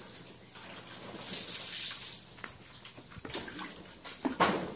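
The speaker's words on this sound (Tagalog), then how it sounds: "Dalawang plato nilalagyan ko ng tubig kasi sobrang init" Water poured into two plates for a dog on a hot day, a gushing, splashing pour with uneven bursts, fairly close, no talking.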